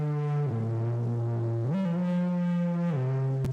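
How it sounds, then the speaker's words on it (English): A heavily distorted vocal layer with the formant lowered, giving a dark, tube-like buzz. It holds sustained notes that shift in pitch a few times, loud and alone, and cuts off abruptly at the end. "And again my voice but with a formant decrease."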